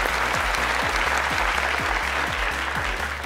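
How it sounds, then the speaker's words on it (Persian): A game show studio audience applauds steadily, a dense continuous clapping from many hands under a low rhythmic music bed, with no voices. "نفرای چهارم رو تشویق کنین"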